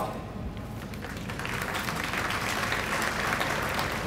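Loud, steady applause from a large audience at a military academy cadet graduation ceremony, honoring award-winning cadets of the champion company. The clapping fills the whole stretch and swells slightly toward the end.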